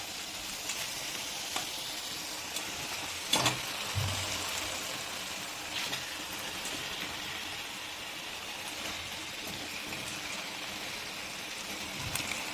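Chicken added to sizzling tomato masala in a pan over a high gas flame, a steady loud hiss of frying with a sharper burst of sizzle and stirring scrapes as pieces go in, no talk.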